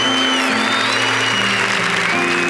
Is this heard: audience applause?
yes